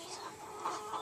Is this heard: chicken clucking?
yes